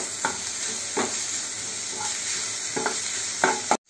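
Egg bhurji being stirred and mashed in a pan, with a spatula scraping and tapping in uneven strokes over a steady low sizzle, close and fairly loud with no talking.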